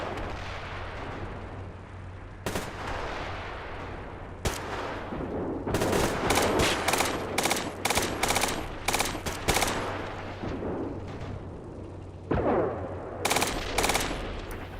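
Enemy infantry gunfire in the video game Steel Beasts Pro PE: scattered single shots give way to sharp, rapid machine-gun bursts at mid distance over a low constant rumble, with a final cluster of shots near the end.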